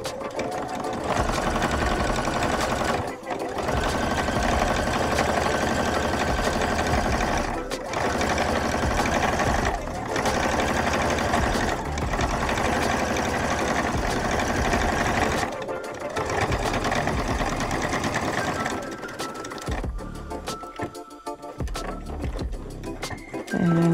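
A sewing machine stitches a denim jeans seam in a steady, fast mechanical whir that runs almost continuously, with short stops between runs, close and loud, while a person talks over it.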